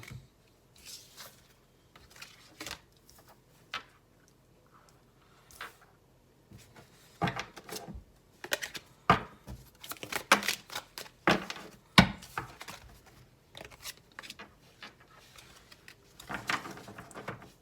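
Tarot cards are shuffled by hand in irregular bursts of papery riffling and slapping. The sound starts sparse and quiet, then grows denser and louder midway, with pauses between bursts.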